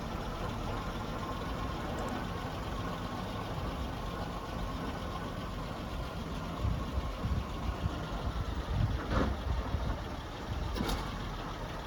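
A 1926 International fire engine drives away, its low engine rumble steady and fairly faint with background noise, swelling slightly near the end.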